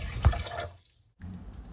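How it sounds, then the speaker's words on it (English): Rice being washed with water in a pot, a brief close slosh and swirl of water and grains, a short pause, then more splashing as the pot is rinsed. "Put 2 cups of rice into the pot and wash them 3 times or till you see clear water"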